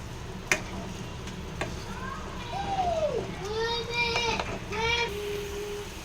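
Gravy sautéing in a pan with a little oil and spice, a steady low sizzle and stirring running under high, wavering children's voices and other background sounds.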